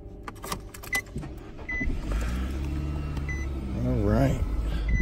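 A 2019 Nissan Rogue Sport engine cranks and catches after a few beeps and clicks, settling into a steady close idle with a rising whirr, while a person talks over it.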